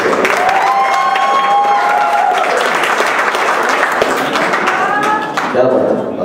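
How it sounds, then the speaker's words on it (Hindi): A large audience claps loudly and continuously at a live music show, dense applause filling the whole stretch with a few brief tonal notes sounding over it. "और जोरदार ताली बजाओ।"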